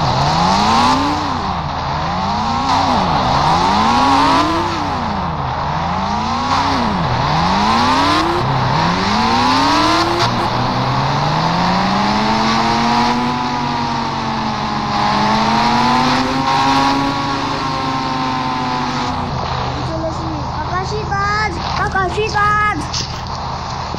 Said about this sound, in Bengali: আমি বাইকে চড়ে ফেলেছি।